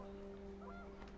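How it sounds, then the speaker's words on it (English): Geese honk in the video game What Remains of Edith Finch, faint and brief cries over a steady hum and wind-like background. "The wind picked up and panicked geese appeared and quickly went."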